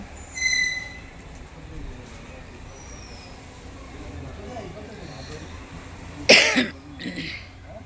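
Against a quiet, low background hum, a person with a winter cold coughs sharply a couple of times near the end, close to the microphone.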